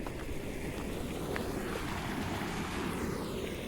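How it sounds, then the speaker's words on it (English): Small waterfall in Idaho wetlands, a steady broadband rush of falling water with some wind noise, constant and moderately loud, with no voices. "One of the smaller waterfalls."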